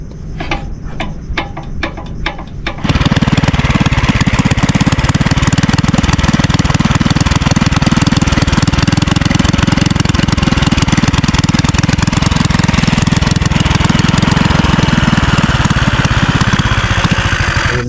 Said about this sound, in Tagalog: buti umandar na yung aming motor